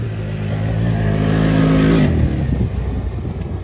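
A CFMoto ATV fitted with King shocks revs hard under throttle, its close, loud engine climbing steadily for two seconds before dropping off sharply into rough clattering idle.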